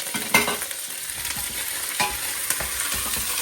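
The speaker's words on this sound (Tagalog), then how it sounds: "Gisa-gisa lang natin." Smoked meat with ginger sautéing in a pan for a home-cooked Filipino dish sizzles steadily, broken by scraping stirs and occasional sharper spatters, with no one talking.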